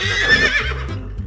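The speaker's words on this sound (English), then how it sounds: "Horse says." A single horse gives a loud, close neigh, a shrill whinny that rises and then trembles downward over about a second.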